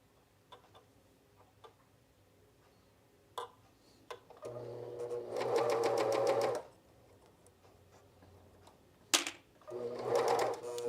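A sewing machine stitching a camisole, two bursts of rapid, close mechanical whirring and ticking, each lasting a second or two, with soft handling clicks in between.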